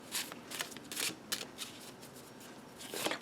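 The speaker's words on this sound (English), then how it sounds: "I want to get the cards mixed in real well." Tarot cards being shuffled up close, several quick crisp riffling bursts separated by short pauses, with no talking.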